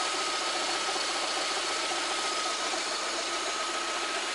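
A VAZ 124 16-valve engine in a VAZ 2110-2112 or Priora, idling with a knocking fault, a steady close mechanical drone with a constant whine, running alone without speech.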